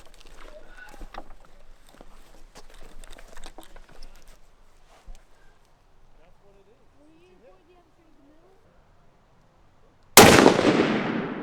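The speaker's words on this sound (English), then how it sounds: "are gonna take a couple shots" Rifle fired while checking its zero before a Yukon moose hunt: after quiet outdoor rustling and light handling sounds, a single sudden, loud, close shot cracks out and rings away in a long decay.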